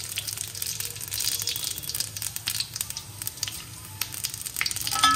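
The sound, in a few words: dried red chilli and panch phoron frying in hot oil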